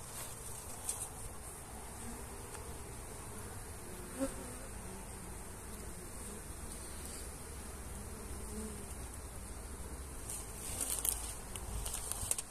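A steady, continuous buzz of many honey bees around a hive hums throughout, fairly faint, with occasional brief louder passes nearby.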